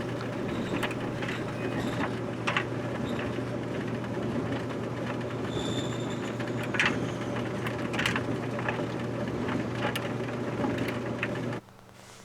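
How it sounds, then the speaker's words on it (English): A clothes dryer runs with a steady low hum and repeated mechanical clicks and rattles for several seconds, then abruptly quiets as it shuts off, during a test after a heating element replacement. "Keep your tools and hands away from the dryer while it's running."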